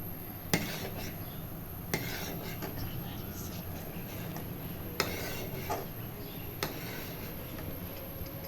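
Mango pulp mixture for aamsotto being stirred in a pan, with a few sharp utensil clinks against the metal spread over a steady low kitchen background.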